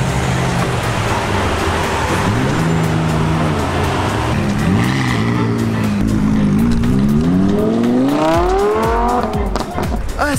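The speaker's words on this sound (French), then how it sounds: "il y a un défilé de belles voitures là, il y a que des Lamborghini." A parade of Lamborghinis passes on a street in Lyon, engines revving loudly and rising and falling in pitch as the cars accelerate past, with tyres squealing, under busy traffic noise and nearby chatter.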